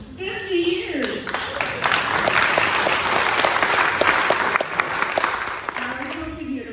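Warm audience applause at a memorial service, a speaker's voice briefly before it, then a full burst of clapping that swells and holds before fading as talking resumes.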